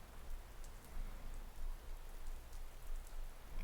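Steady rain falls in a dense, even patter with scattered sharper drops, soft and continuous with no voices.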